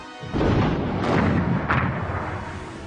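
German artillery fire at the Dieppe raid, a heavy booming barrage with two sharper blasts rising from a rumbling, sustained low roar, loud and close.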